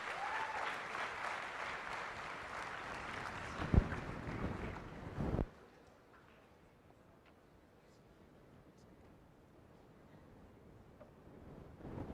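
An audience at a chartered accountancy students' national conference breaks into a round of applause, a dense clapping wash for about five seconds that cuts off abruptly, leaving quiet room tone with faint scattered noises.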